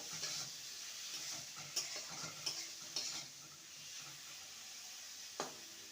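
About 200 grams of medium prawns frying with ground spices in a pan give a steady close sizzle, broken by a few sharp scrapes and clinks as they are stirred.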